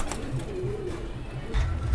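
A pigeon in a home loft coos softly from nearby, giving low repeated throaty calls under steady background noise, with a slightly louder burst of cooing near the end.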